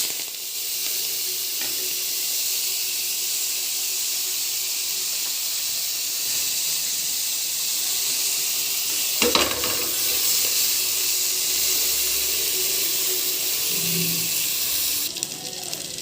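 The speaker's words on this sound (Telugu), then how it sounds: "ఇప్పుడు మెంతం కూర వేసుకోవాలండి." Fenugreek leaves fry in a hot pan for a chutney, giving a loud continuous sizzle and hiss with occasional stirring scrapes and clatter midway.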